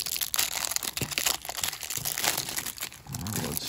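Crinkly foil wrapper of a Pokémon card pack being handled and torn open, with close, continuous rustling and crunching bursts throughout.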